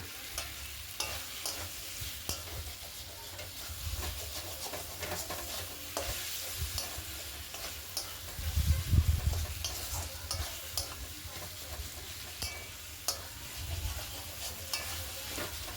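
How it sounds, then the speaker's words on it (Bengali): Chopped tomato with ginger, garlic and masala sizzling steadily in a pan while a spatula stirs and scrapes, with soft clinks and a brief louder burst of stirring midway; no voices. "আদা রসুন ভাজা হয়ে গেলে তারপরে দুখানা মতন টমেটো কুচি ভেঙে দিয়ে দিলাম"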